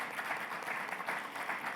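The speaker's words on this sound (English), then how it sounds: "So let's just give them a round of applause." Audience at a medical conference session on cancer and melanoma gives a round of applause for a premier sponsor, a brief, soft, even patter of clapping.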